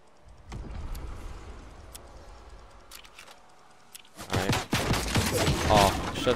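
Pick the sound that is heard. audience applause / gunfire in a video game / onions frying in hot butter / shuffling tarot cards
gunfire in a video game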